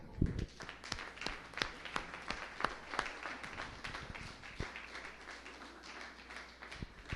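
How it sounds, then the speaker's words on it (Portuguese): Church congregation clapping in a loose, uneven patter, with sharp individual claps standing out over a steady room wash, moderately near and sustained for several seconds. "Cadê a salva de palmas ao Senhor?"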